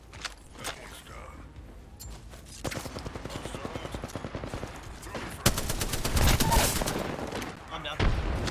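Bursts of gunfire in the battle royale game Apex Legends, with a steady rattling volley followed by louder, denser shooting and a final burst, mixed with footsteps and voices talking over the action.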